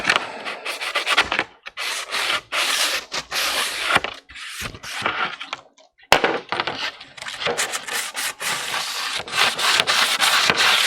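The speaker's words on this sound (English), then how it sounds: "I'll go ahead and sand that with some 80 grit paper." A 850 ArmorWorks ShoreTrooper shin armor shell is sanded inside and out with 80 grit sandpaper, giving loud, rough rasping strokes in an uneven rhythm with short pauses between bursts.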